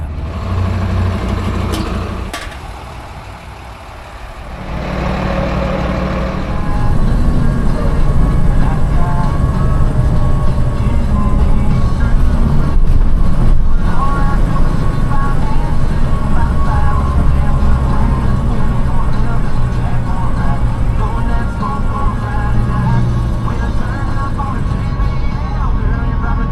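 An RV rumbles along the road on a cross-country drive, its steady engine and road noise filling the cabin after a quieter stretch near the start, with no talk over it.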